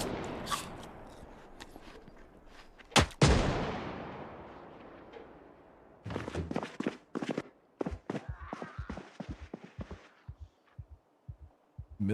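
Sharp gunshots from military shooting in Project Zomboid: one loud blast, then after a pause a rapid scattered volley of cracks of varying strength.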